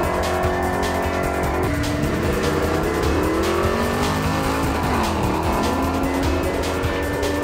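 Holden VK drag car with a 750 horsepower naturally aspirated 383 stroker V8 roars loud and close, revving and rising in pitch with tyre squeal, engine dominant throughout.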